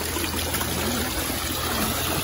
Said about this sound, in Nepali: यता खोले रहेछ र